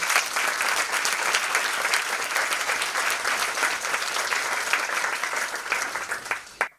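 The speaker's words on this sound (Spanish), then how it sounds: "vamos a recibirle con un aplauso como se merece" Audience applause after a speaker is welcomed at a lecture on managing the Calares del Mundo y de la Sima natural park, a dense, steady clapping that fills the room for several seconds, then tapers off near the end.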